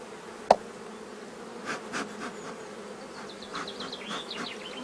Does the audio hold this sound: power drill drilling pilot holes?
no